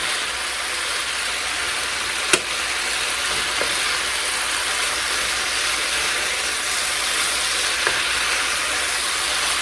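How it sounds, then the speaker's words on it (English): Thai basil ground beef sizzles steadily in a pan with the heat just turned off, a broad, even frying hiss with a couple of faint utensil taps as it is stirred. "I'm gonna give this a mix for just a minute"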